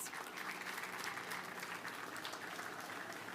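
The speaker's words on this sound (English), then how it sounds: "Let's give them a round of applause." Steady applause from an audience at a press conference, continuous even clapping that sounds fairly distant and soft with no voices over it.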